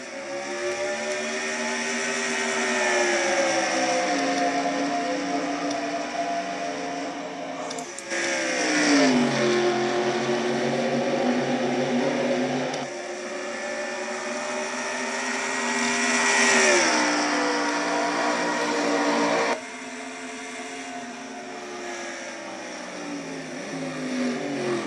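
Race cars at Riverside in the Castrol GTX Cup Series roar away from a green-flag start, several engines revving and accelerating together in a loud, sustained wall of sound with rising and falling pitch sweeps as the pack pulls away.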